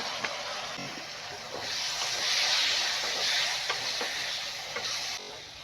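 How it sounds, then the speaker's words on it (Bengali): Spice paste of coriander and cumin powder, salt, chopped tomato and a little water fries and sizzles in a pan, with a steady hiss and occasional soft stirring scrapes, rising and falling in intensity, no talking. "আগে থেকে কেটে রাখা টমেটো অল্প পরিমাণে জল দিয়ে মশলাটাকে কষিয়ে নেবো"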